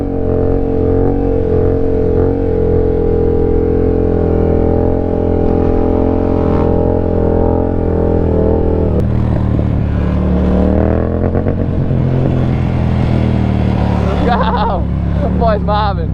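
A Yamaha MT-07 motorcycle idles loudly and then revs in bursts at close range, with people talking over the engine throughout.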